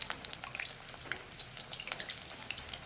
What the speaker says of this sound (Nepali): मासु फ्राई भयो।